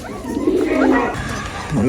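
A pigeon coos softly nearby in a low, throaty call that rises and falls.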